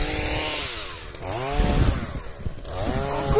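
Chainsaw running and revving while cutting wood from an old pear tree at the back of a garden, with engine pitch rising and falling through the cut, moderately loud with no voices.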